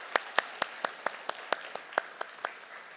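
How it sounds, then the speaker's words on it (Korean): Church congregation claps after a special musical performance at Sunday worship, heard as a quiet, evenly spaced run of about a dozen distinct hand claps, sparse rather than a full roar. "우리 감사와 격려의 박수 한 번 더 부탁드리겠습니다"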